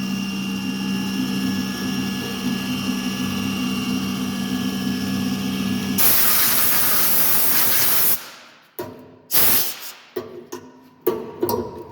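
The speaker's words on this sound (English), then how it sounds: "So this is the tool changing process." A Langmuir Systems MR-1 CNC mill makes a steady mechanical drone and hiss during a tool change. The noise swells into a loud rushing burst, then breaks into sharp intermittent clanks and knocks, close and without voices.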